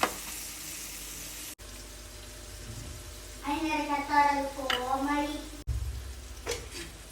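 Chicken frying in a pan gives a steady, soft sizzle throughout, with a brief break partway. A voice talks over it in the middle section.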